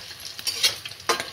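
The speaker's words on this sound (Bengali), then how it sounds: "আমি সবগুলো ছানার বড়াই ভেজে নিলাম" Cottage cheese fritters frying in oil, a close crackling sizzle with quick spatula scrapes and a sharper burst near the end.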